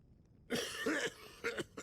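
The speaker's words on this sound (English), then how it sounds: "I'll have to do this quickly, before this man stops coughing." A man in the video game Dead Synchronicity coughs in three harsh bursts, close and loud, after a brief quiet start.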